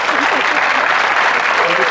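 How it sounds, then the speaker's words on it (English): Studio audience applauding on a dating show, a steady dense wash of clapping that fills the whole moment at close range, with a voice talking faintly underneath. "Give them a nice round of applause"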